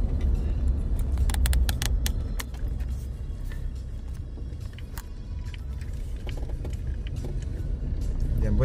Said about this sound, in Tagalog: Traffic po dyan dahil hindi magkasya yung mga sasakyan ng ating mga kaibigan